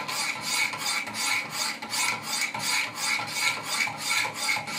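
Steady rhythmic rasping of a Benchmade 940 blade drawn across stones on a Wicked Edge sharpener, with alternating strokes repeating about twice a second, close and even, with no talk.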